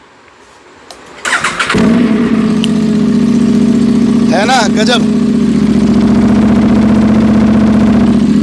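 An Aprilia RS 457 motorcycle fitted with an SC Project exhaust cranks and fires up, then settles into a loud, steady, close-up idle with a brief throttle flutter partway through. Someone speaks briefly over the engine.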